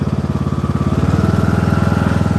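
The engine of a cutting machine, used to clear Scottish thistles, runs close and loud with a rapid, pulsing throb as the revs climb steadily.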